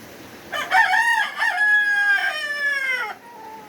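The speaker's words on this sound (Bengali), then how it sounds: "ফার্মে মোরগ অনেক বেশি হয়ে গেছে" On a poultry farm with Fayoumi chickens, a rooster gives one loud, drawn-out crow close by, with a few clucks just before it and a softer call trailing after.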